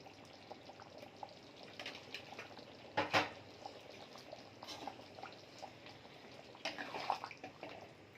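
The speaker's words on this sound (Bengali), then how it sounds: "দেখুন ফুটতে শুরু করেছে।" Paneer butter masala gravy simmers in a pan with a soft, steady bubbling and hiss. One louder spatter-clink comes partway through, and there is no talk.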